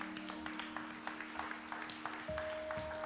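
Scattered applause from a church congregation during a sermon, a steady patter of claps with a faint sustained tone behind it.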